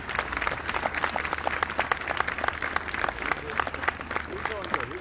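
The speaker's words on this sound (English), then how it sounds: "Everybody give Cobbler a big round of applause." A crowd applauds the pardoned turkey Cobbler, steady clapping from many people that continues evenly throughout, with a voice speaking faintly underneath.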